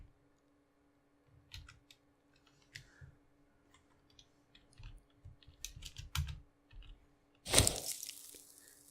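Keys clatter on a computer keyboard while a player debugs a Conan Exiles mod, soft scattered taps and bursts of typing that grow busier before one loud clack near the end.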